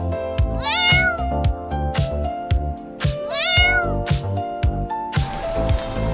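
A plump house cat in a hotel room meows two drawn-out, rising calls between frequent sharp knocks and rattles, close and clear, with no one speaking.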